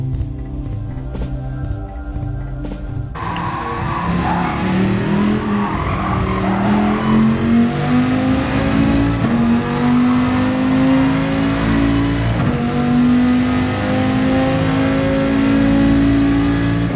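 Race car from a racing video game on a flying lap at Suzuka, engine rising through the gears and holding a loud, steady high whine, with tire skids through corners; no talking.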